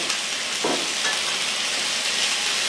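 Chicken browning with pecans in a pan, a steady close sizzle and fry hiss that stays even throughout, with no voices.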